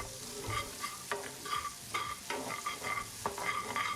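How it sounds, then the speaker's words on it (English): Chopped onion being stirred through a pan of sizzling lamb and butter, with steady frying hiss and repeated scraping strokes of the utensil, close and clear with no talk. "Gonna give that a quick mix."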